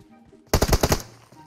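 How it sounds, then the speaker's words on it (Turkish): Rapid burst of automatic gunfire from PUBG Mobile, a loud string of about six or seven close shots lasting half a second, over a quiet game background. "Ne sıkıyorsun? Nereye sıkıyorsun?"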